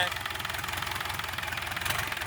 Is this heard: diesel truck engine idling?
yes